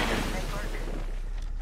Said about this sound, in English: Bangalore called down an airstrike